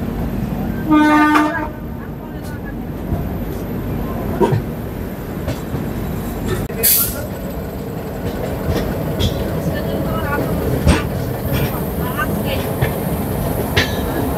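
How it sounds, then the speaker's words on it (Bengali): The Uttarbanga Express pulls out of platform 14 at Sealdah station with a continuous rumble of wheels and carriages, a sharp horn blast partway through, and voices faintly in the background. "আমাদের এই উত্তরবঙ্গ এক্সপ্রেস শিয়ালদা স্টেশনের 14 নম্বর প্ল্যাটফর্ম থেকে ছেড়ে দিল"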